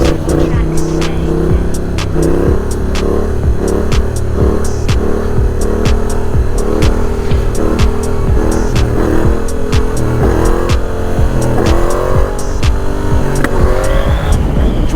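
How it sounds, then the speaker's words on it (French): A Yamaha Tracer 700 motorcycle accelerates hard through the gears while held in a wheelie, its engine revving loudly with rising pitch and sharp shift breaks, close and continuous throughout. "maintenant j'essaie vraiment de lever en 2, de passer la 3 direct, de monter assez haut et de perdre un minimum de vitesse"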